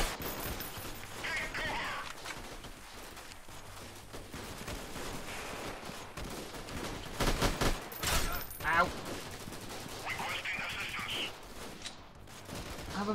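Gunfire in the video game Freeman: Guerrilla Warfare comes as faint, scattered shots and short bursts across a busy battle backdrop, with a few louder volleys in the middle.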